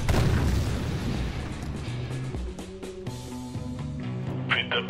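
A mine detonates under a vehicle in the war strategy game Syrian Warfare: one heavy, loud boom at the start that rolls off over a few seconds while low musical tones rise beneath it.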